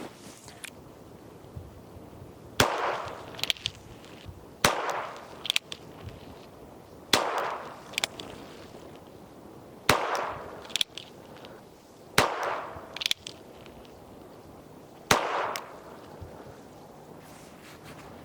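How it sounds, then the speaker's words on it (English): A Ruger Wrangler revolver fires CCI Mini-Mag 40 grain rounds in seven sharp, loud, separate shots spaced about two seconds apart, each with a short ringing decay and quiet pauses between. "I got the Ruger Wrangler loaded up with some CCI mini mags 40 grain."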